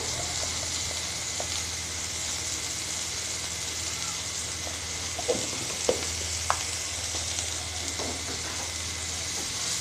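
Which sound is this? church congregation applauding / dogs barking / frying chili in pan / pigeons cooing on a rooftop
frying chili in pan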